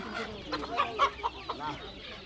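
Several short clucks from a chicken, close by, at a village poultry market in Bangladesh, with a murmur of background activity around them.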